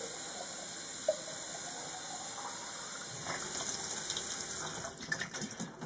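Tap water runs steadily into a sink at a laboratory bench, a constant close hiss that grows rougher and splashier near the end as objects are rinsed under the stream.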